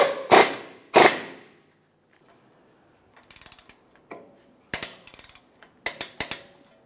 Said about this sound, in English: Let's go ahead and snug this and we'll torque it to 63 foot-pounds.